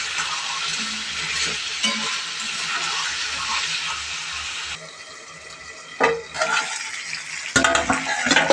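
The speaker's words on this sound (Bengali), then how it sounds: "এই যে এখানে খুব সুন্দর কষানো হচ্ছে" Chicken curry with garam masala being stir-fried in a pot, a steady close sizzle and stirring that drops away midway, then returns with louder clattering scrapes.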